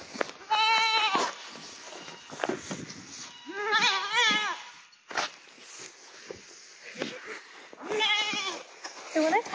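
Little goats bleat outdoors in several loud, wavering calls spaced a few seconds apart, with faint rustling and movement between them.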